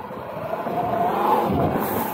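Sur-Ron electric motorbike fitted with a Sotion motor, running with a steady loud whine over broadband road and wind noise, rising slightly in pitch partway through.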